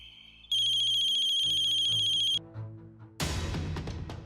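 A phone rings after a call is placed, a steady electronic ringtone tone pattern for about two seconds, followed by a brief musical sting and a loud dramatic swell.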